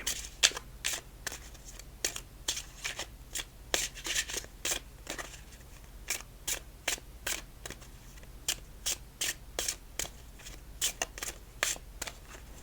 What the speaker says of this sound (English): Let's just do side shuffles for this game.